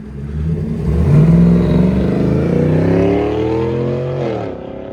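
A 2023 Cadillac Escalade 600 with a 6.2-liter V8, Corsa Xtreme muffler, resonator delete, rear delete and quad tips revs loudly, climbing and holding a deep, rumbling roar before easing off near the end.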